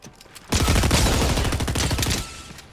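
Rapid shotgun blasts and gunfire in Fortnite Chapter 4 Season 1 burst out loudly after a brief quiet, a dense roaring volley lasting about two seconds before fading.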